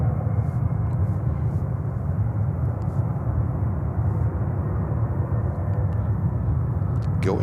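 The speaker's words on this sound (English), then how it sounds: "Delta 767." A Delta Boeing 767 jet airliner rolls for takeoff at JFK Airport in New York, a steady broad roar heard from a distance, continuous and unbroken with no talking.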